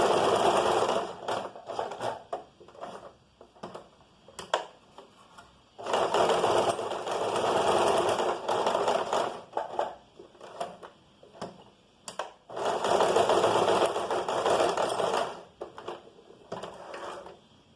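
A sewing machine stitches fabric in several bursts of a few seconds each, stopping in between as the needle stays down and the cloth is turned at corners, with soft clicks and handling noise in the pauses.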